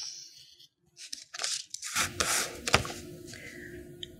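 Scissors trim excess card from a pop-up Christmas card: a few close, crisp snips and rasping cuts, starting softly and growing into a denser run of cutting sounds.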